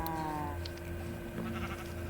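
Sheep bleating on a Minecraft homestead, a single short, faint, nasal bleat against a quiet background with steady low tones.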